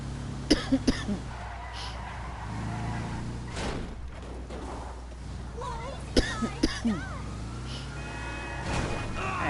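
A person coughs and clears the throat, two clusters of sharp hacking bursts over a steady engine hum, with talk in between.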